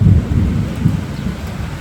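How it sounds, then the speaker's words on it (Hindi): Heavy monsoon rain in a Himalayan village near Shimla, a loud steady low roar of downpour with a dull thunder-like rumble and wind buffeting, no voices. "और अब शुरू हुई है बारिश।"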